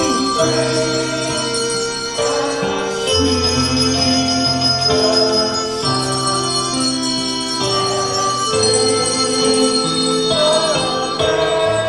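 Handbells ring out melodic notes as a group sings along at a homecoming gathering, the bells and voices blending in steady phrases, close and clear.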